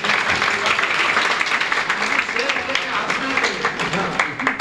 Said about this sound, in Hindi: इस पर तालियां होनी चाहिए।